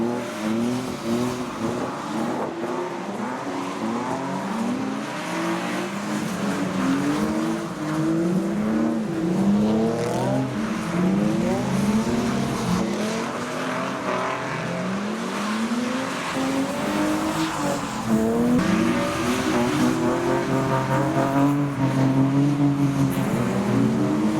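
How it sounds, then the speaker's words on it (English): An E46 BMW's engine revs and rises in pitch again and again, with tires squealing through a long skid, loud and close throughout. "you know, Stevie did a skid, check this out."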